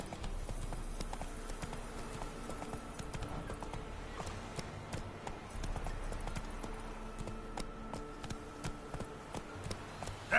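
Roach the horse trots along in The Witcher game, its hooves clip-clopping in a steady, continuous rhythm at close range over a low ambient background.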